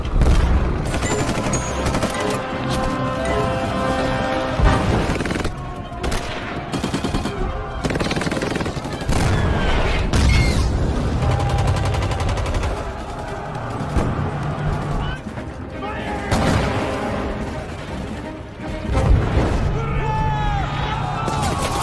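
A film battle scene against Soviet troops and tanks: dense machine-gun bursts, rifle shots and heavy booms roll on continuously and loudly, with voices and shouting mixed among the gunfire.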